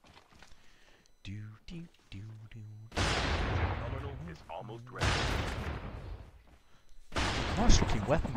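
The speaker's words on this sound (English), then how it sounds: "Did you hear a sniper shot then, or was that you shooting?" Gunfire in the Call of Duty Mobile video game, with a few loud, broad bursts of shots standing out after quieter stretches where players talk over voice chat.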